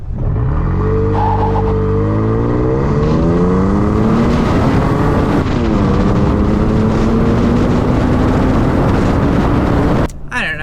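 A 2022 Toyota Tacoma Trail Edition pickup accelerates hard from a stop, its engine note rising through several gear changes for about ten seconds, loud and close, with faint talk underneath.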